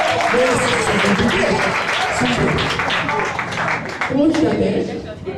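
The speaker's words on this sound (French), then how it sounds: "Acclamez, acclamez." Audience applause fills a French gospel worship event, steady and loud throughout with a brief swell near the end, mixed with crowd voices and some talk over the clapping.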